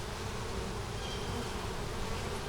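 Honeybees buzzing at an opened hive that had swarmed, a dense continuous drone of many insects close by, steady and unbroken with no talking.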